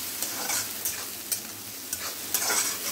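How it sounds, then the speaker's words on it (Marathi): Crushed garlic, three to four cloves, sautéing in a pan with chopped onion, a steady close sizzle broken by several stirring scrapes, no voices. "हा लसूण मी ठेचून घेतला आहे, कमीत कमी 3 ते 4 पाकळ्या आहेत. आणि आपल्याला मस्तपैकी परतून घ्यायचं"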